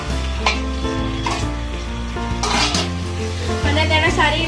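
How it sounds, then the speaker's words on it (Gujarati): Soaked lentils tipped into roasted masala in a hot pan sizzle and fry as a spoon stirs and scrapes against the pot, with clinks of metal over the steady crackle. "આપણે તેમાં પલાળેલા મસૂર નાખી દઈશું"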